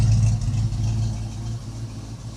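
An old car's engine idles close by in a low, steady rumble that eases slightly, alone with no voices.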